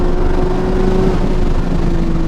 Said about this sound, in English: to listen to that naturally aspirated flat 6 just absolutely scream